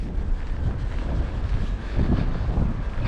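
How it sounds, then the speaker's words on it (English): Wind buffets a microphone outdoors over the Hayle estuary, a continuous low rumbling roar with gusty swells, no voices. "I don't know if we can get away from this wind or no."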